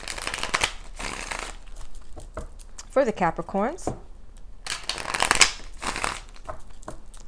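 Tarot cards being riffled and shuffled in quick, crisp bursts near the microphone, with a short stretch of a woman's speech between the shuffles.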